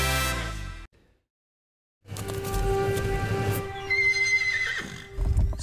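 At a horse rescue in Connecticut, loud close horse neighs and whinnies ring out together with clip-clopping hooves after a brief silence, with repeated calls and movement filling the rest of the clip.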